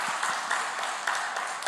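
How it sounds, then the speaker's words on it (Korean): Audience applause at a church Easter special prayer meeting, a steady crowd clapping with many overlapping hand claps at an even level throughout, no voices on top. "우리 다시 한번 박수 하시겠어요?"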